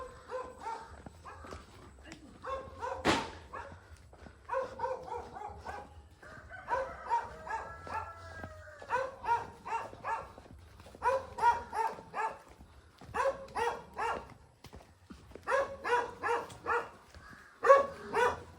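Several dogs bark in repeated bursts at moderate distance in the rural Philippine countryside, short yaps clustering irregularly throughout, with quiet background noise between.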